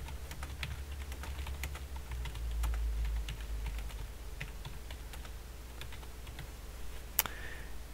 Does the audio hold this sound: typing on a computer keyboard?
yes